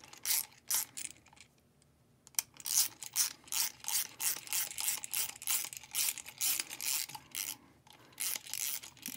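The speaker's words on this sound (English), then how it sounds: "Just kind of working the threads back and forth a little bit" Threads on a PEEP valve enclosure are worked back and forth, producing rapid dry clicking and ratcheting bursts in a steady rhythm, close and fairly quiet, with no voice.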